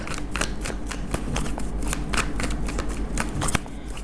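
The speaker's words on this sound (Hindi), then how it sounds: "एक ही शफल करेंगे, जिस भी कार्ड को आना है आ जाएगा।" Tarot cards are shuffled close by, a steady riffling flutter of crisp card edges with no talk.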